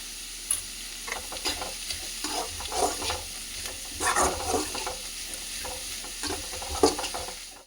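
Mixed vegetables sautéing in a pan for chicken fried rice, with steady sizzling and frying under repeated spatula stirring and scraping, close and moderately loud, with no talk.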